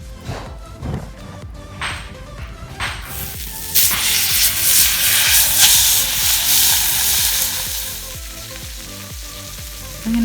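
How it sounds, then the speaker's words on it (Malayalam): River fish dropped into hot coconut oil on a thick dosa pan, with an initial clatter before a loud, sustained sizzle swells and carries on close by, no one talking. "ചൂടായിട്ടുള്ള എണ്ണയിലോട്ട് നമ്മുടെ പുഴമീൻ ആഡ് ചെയ്ത് കൊടുത്ത്"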